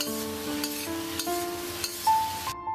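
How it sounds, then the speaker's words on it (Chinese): Onions stir-fried in a wok over high heat hiss in a steady, close sizzle with faint scraping from stirring, running continuously for a few seconds with no talking. "下入切好的洋葱，这个时候把家中的火开到最大，大火快速把洋葱爆香"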